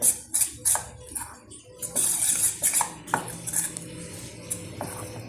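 Idli batter mixed with bread crumbs in a bowl, close irregular clinks and scrapes of a spoon against the dish, coming in short bursts with quiet gaps.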